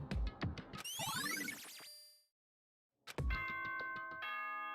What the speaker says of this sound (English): That bell could only mean one thing